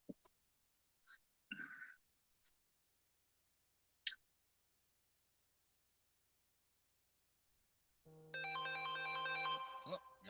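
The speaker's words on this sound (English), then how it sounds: "got another phone call" Phone ringtone for an incoming call, a melodic electronic ring that starts near the end and repeats its bright tones at steady volume, after scattered faint clicks and short noises.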